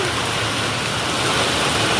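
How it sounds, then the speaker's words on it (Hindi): Heavy rain pours down in a dense, even hiss of countless drops on surfaces, loud and continuous throughout, with no voices. "बहुत तेज है, बहुत तेज बारिश है।"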